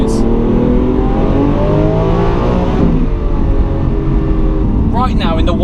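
A Lamborghini Aventador SV's V12 engine drones loudly and steadily with a brief dip, like a downshift, near the middle, while people talk over the engine throughout.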